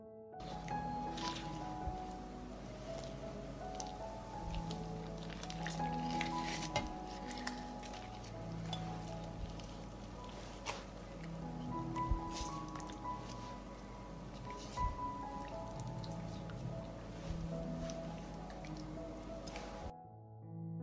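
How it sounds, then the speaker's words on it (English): Roasted peppers are peeled by hand, giving soft wet squishes and small drips with occasional light clinks of dishes, close and quiet throughout with no talking. "The pepper has cooled and now I will peel it."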